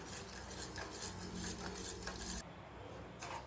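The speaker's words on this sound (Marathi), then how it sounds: "एकदा ही साखर अशी हलवून द्यायची आहे" A spoon stirs boiling sugar syrup with ghee for rava ladoo, a close, steady scraping and bubbling in a pan with a brief pause before stirring resumes; no one speaks.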